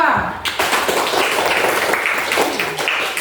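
Classroom clapping for a student group after their presentation, a short burst of scattered hands under overlapping chatter and talk.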